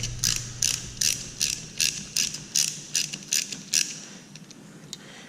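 A spark plug socket ratchets a spark plug loose on a Kohler Courage XT small engine, giving a close, steady run of about a dozen crisp metallic clicks that thin out and stop near the end.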